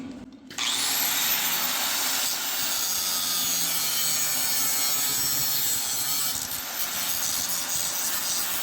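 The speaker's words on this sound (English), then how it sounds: "we'll get the grinder just there" An angle grinder cuts through the B pillar of a car during a chop-top job on a shoebox, starting after a short pause and then holding a loud, steady metallic whine with a harsh grinding edge until the end.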